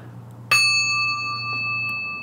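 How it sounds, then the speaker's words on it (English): A small green desk bell is struck once and rings out with a clear, bright tone that sustains and slowly fades over a couple of seconds, close and alone in a quiet room. "I have a small green bell on my desk that's attuned to the vibrational frequency of the heart."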